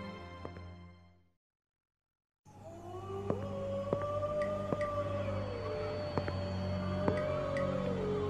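Wolfdogs howl in the video game Metal Gear Solid: The Twin Snakes. After a brief silence, long, gliding tonal howls overlap and rise and fall, with sharp clicks and a low ambient hum underneath.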